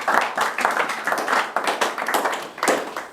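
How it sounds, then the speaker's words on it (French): A church congregation claps for Jesus in rhythmic, fairly close bursts of hand claps, a lively uneven beat lasting a few seconds. "Acclamez pour Jésus."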